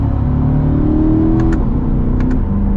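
A 2023 Chevrolet Corvette Z51 convertible's mid-mounted engine drones loudly up close, its pitch sliding down as the driver downshifts, with a couple of faint clicks near the end.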